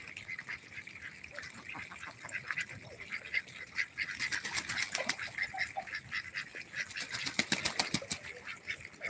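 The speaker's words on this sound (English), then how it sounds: "that's two male ducks fighting right there." Two male ducks honking and squabbling in a fight with bursts of wing flapping, getting louder and more agitated midway, close by.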